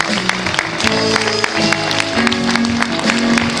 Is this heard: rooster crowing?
no